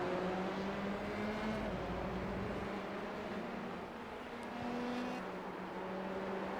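Open-wheel F3 race cars in the iRacing sim at Barcelona hold a steady, loud engine drone with shifting pitch tones as they brake toward the big turn 10 hairpin, the whine dipping briefly then rising again.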